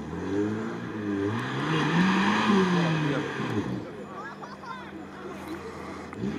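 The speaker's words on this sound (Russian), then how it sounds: "Моторы работают, трансмиссия работает." Lada Niva off-road cars with stock CV joints driving through deep sand: engines drone and rise in revs, steady and fairly close, while people talk over the motor noise.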